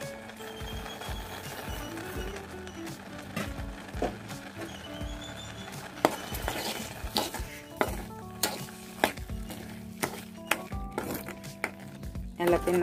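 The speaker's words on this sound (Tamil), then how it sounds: "எல்லாத்தையும் நல்லா மிக்ஸ் பண்ணிக்கலாம்." Carrot ginger halwa being stirred with sugar in a pan: soft scraping and sizzling with sharp clacks of a spoon against the pan, growing more frequent toward the end, close and moderately quiet.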